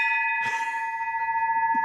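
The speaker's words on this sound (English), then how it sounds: "we will ring the bell for you" A single bell rings out during a virtual charity auction, holding a clear, steady metallic tone for under two seconds with no voices.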